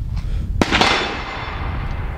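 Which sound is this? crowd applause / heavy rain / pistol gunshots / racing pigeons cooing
pistol gunshots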